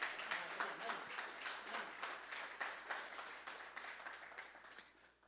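Church congregation applauding together, a dense run of quick claps sustained for several seconds at moderate distance, fading slightly toward the end.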